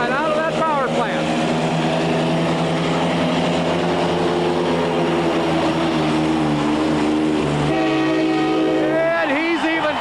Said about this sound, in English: he's even got time to pull the air horn